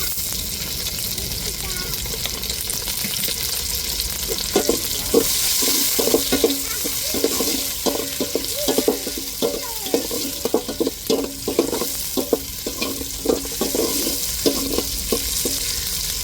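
Chili and tomato frying and being stirred in a pan for Tamil-style chicken curry: a steady broad sizzle with a run of close, rhythmic scraping strokes from the spoon, loud and continuous with no talk over it.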